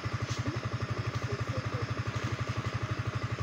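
A motorcycle engine idles close by, its low, even putter pulsing rapidly and steadily throughout, with no voices.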